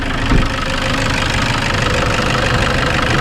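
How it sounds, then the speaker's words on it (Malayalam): A Toyota Innova engine idles steadily after repair, heard up close as a continuous mechanical hum with a rhythmic ticking knock running throughout and one brief thump near the start. "ഇപ്പോഴത്തെ എഞ്ചിൻ്റെ സൗണ്ട് ഇതാണ്."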